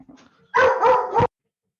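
A dog indoors barks three times in quick succession, loud and close, during a tabletop role-playing game session; a few faint sounds come before the barks.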